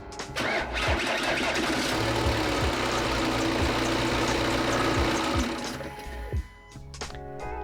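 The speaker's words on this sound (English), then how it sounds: "the car really struggled to crank the engine" A car engine cranking laboriously on a weak battery, a loud, rhythmic starter churn with uneven pulses lasting about six seconds before dropping away, followed by a few brief clicks.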